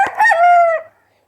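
One loud, close rooster crows once in a farmyard kept with hens, a single cock-a-doodle-doo lasting under a second and then cut off into silence.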